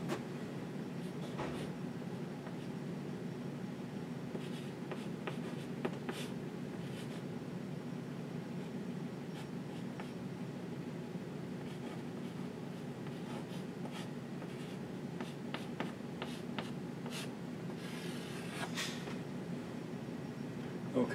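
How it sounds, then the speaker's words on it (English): Marker or chalk writing on a board during a math lecture: faint, scattered scratches and taps over a quiet room hum, with short bursts of strokes spread across the span. "I'll write that a little better out here."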